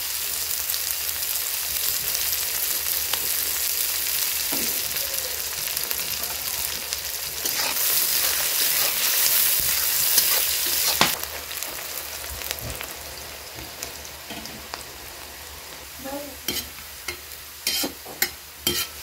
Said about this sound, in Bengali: দেখুন পেঁয়াজটা লাল লাল করে ভেজে নিয়েছি